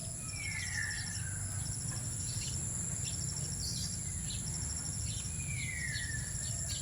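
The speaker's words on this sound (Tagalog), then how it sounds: "Wow, bird." Faint bird calls outdoors on an early cool morning beside a small store opening, a couple of thin descending whistles and scattered chirps over a constant drone of crickets and insects, distant and quiet.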